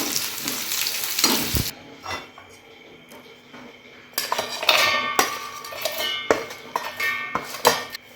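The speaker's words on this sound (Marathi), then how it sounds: "मसाला भाजून घेऊया पूर्ण, नंतर पेस्ट काढणार आहे।" Masala roasting in a pan for a bhindi rassa curry: loud frying crackle and spatula scraping at first, a quieter stretch, then renewed clattering stirs and clinks against the pan.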